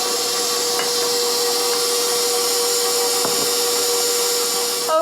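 An electric mixer beats cake batter as eggs go in one at a time, giving a steady, close motor whine with a few faint knocks against the bowl and no talk.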